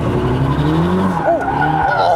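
A car drifts with its rear stepping out, tires squealing and skidding loudly under engine revs that rise and fall, with people talking over it.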